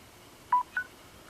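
A travel solar charger gives two short electronic beeps while charging a phone, quick and close together against a quiet background.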